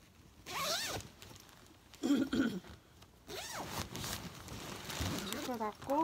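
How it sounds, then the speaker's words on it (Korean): A zipper is pulled closed on a goose down duvet cover during repair, giving several raspy zipping strokes with handling rustles between them, while a person talks intermittently. "지퍼 닫고"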